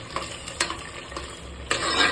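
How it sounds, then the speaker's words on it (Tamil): Five broken eggs sizzle in hot oil while being stirred in a pan for egg biryani, with scraping strokes and soft clinks over a constant frying hiss. "இப்போ இந்த 5 முட்டையை உடச்சி ஊற்றியாச்சு. இப்போ வந்து என்ன பண்ணலாம், இந்த எண்ணெயிலேருந்து லைட்டாக வந்து கலந்து கொடுங்க."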